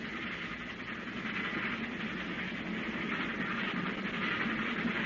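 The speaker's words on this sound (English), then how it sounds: "That train is coming again." Approaching train as an old-time radio sound effect from 1931: a steady, continuous rumbling roar with rhythmic rail noise, holding loud and building slightly throughout with no talk.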